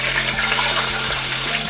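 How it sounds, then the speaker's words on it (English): Water pours steadily into a cooking pan holding browned green onions, a loud continuous gush with bubbling and sizzle that does not let up. "So now that my green onions are nice and brown, I'm going to add in the water."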